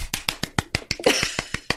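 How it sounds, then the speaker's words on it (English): A person claps their hands in a quick, steady run of about a dozen sharp, close claps, evenly spaced and with no talking. "I'm clapping. I gave you a little standing ovation."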